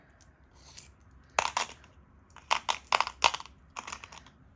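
Small glass beads, including a pink and blue duo style, dropped into a container in several quick bursts of bright clicking rattles separated by short pauses, close and crisp.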